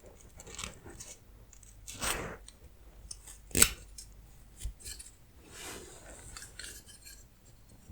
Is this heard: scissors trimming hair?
yes